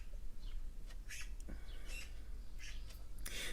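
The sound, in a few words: birds squawking at a garden bird bath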